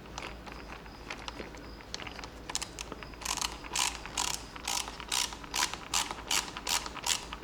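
Ratcheting clicks from a screw being driven in while fitting the mount for a Carpuride W702 PRO motorcycle display, a burst of quick, close mechanical clicks and turns that grows louder and more regular partway through, with no talking.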